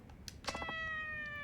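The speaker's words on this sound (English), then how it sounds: "Meow." Cat in Yakuza 4 lets out a single drawn-out meow after a few soft clicks, clear and close, holding its tone until the end.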